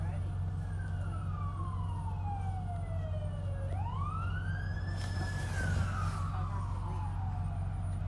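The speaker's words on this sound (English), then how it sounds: "It's the police car." A police siren wails, its pitch sweeping down then rising and falling, fairly distant over a constant low engine rumble from inside a moving school bus.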